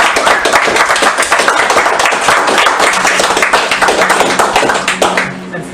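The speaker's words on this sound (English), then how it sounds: "But we could give a round of applause for Tranquilite." Applause from a live audience at a speedrun marathon event, dense steady clapping filling the room for several seconds before tapering off at the end.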